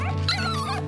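Newborn puppies from an emergency birth whimper and yip in a close, continuous high-pitched whine lasting under a second, loud and steady with no talk over it.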